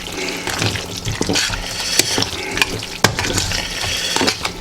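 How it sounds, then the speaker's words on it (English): Chili mac being stirred in a pot, close wet squelching and clattering spoon knocks against the pot in an irregular rhythm, with a few sharp metallic hits. "And get it all good and stirred up here."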